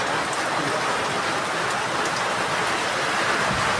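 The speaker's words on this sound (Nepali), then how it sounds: "आज चाहिँ फेरि रोकिएको छैन क्या पानी" Steady rain falls at a rural village gathering, a constant even hiss of drops on surfaces with no talk over it.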